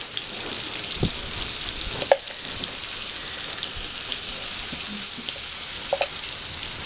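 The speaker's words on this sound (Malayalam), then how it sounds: "ആ ചൂടായ എണ്ണയിലേക്ക് ചതച്ച ഉള്ളി ചേർക്കാം" Crushed onion and crushed chili frying in hot oil, a steady close sizzle with faint crackles and a couple of small pops, no talking.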